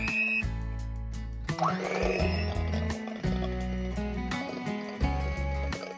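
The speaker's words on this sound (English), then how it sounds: "I'm gonna whisk it now" Electric mixer whisking banana bread batter in a bowl, a low motor drone broken into several short bursts with wet sloshing and scraping; a voice speaks briefly at the start.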